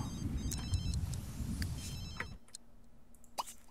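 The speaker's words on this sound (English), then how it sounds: "Answer your phone in case it's what's his face?" A phone in the video game The Sims 3 rings with bright, repeated electronic tones over a low game hum, which then fades into a quieter stretch with a few faint clicks.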